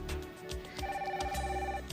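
A telephone rings with a bright, steady electronic bell tone, close and continuous over a soft low hum.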